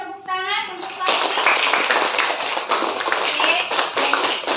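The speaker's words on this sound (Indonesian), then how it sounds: "Berikan tepuk tangan untuk Fahri." A classroom claps for a student named Fahri: a short voice comes first, then dense, steady clapping from many hands fills the rest, close and fairly loud.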